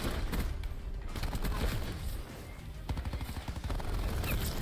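Micro MG fire in Black Ops 4 comes in rapid, loud bursts. The rattling automatic shots continue through almost the whole stretch, with brief gaps between volleys.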